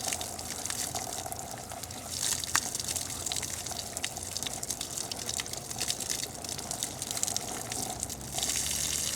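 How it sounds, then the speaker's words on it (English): Running tap water washes paint overspray off a radio-control helicopter canopy, a steady close splashing and gushing stream with small drips and bursts, alone with no talk. "the first thing is just to wash it off"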